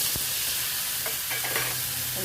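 Pineapple and curry leaves fry in a pan with a steady loud sizzle, broken by a few utensil scrapes and knocks.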